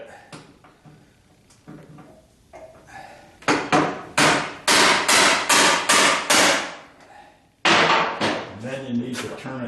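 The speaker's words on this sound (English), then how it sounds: "Beat on it with the impact driver again." A hammer strikes a manual impact driver to loosen screws on the rocker panel of a 1976 Corvette, delivering loud, close, sharp metallic blows in quick bursts of about ten hits after a few softer taps.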